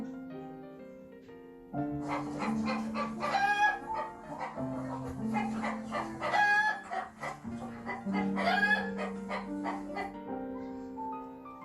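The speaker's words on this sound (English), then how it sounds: "Chicken." Chickens cluck and a rooster crows several times, bright and close, over a soft backing tune.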